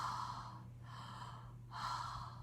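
A voice imitates loud, heavy breathing, producing three drawn-out breathy gasps or snorts in slow succession, close and alone with no words spoken.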